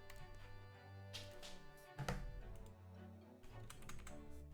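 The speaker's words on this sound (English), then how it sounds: "Maybe if I unplug this and use the keyboard" Quiet clicks of typing on a computer keyboard, faint and irregular beneath a steady background of tones.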